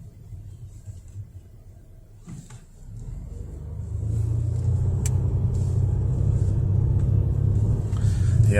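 A Volvo S90 accelerates on a snowy road, its engine rumble low and steady at first, then swelling louder and fuller after a few seconds and holding a sustained drone from inside the car.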